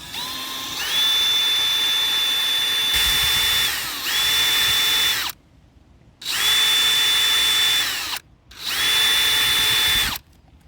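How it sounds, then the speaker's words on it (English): Power drill spinning a wire brush against a dirty MTD snowblower carburetor, high whining bursts of a few seconds each with scratchy grinding, stopping briefly between runs, close and loud. "I'm also gonna get my wire brush on my drill and then kind of just wire brush this."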